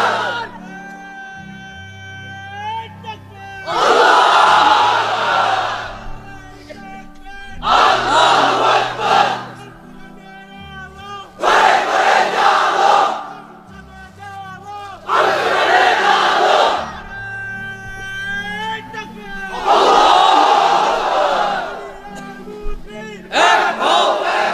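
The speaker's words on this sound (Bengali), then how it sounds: "এবার অবিবাহিতরা দাও লিল্লাহি তাকবীর" A large crowd of unmarried men at an Islamic religious gathering roars the takbir chant in repeated loud, full-throated bursts, answering a lone speaker's calls in between, the shouts rising and falling in a steady call-and-response rhythm.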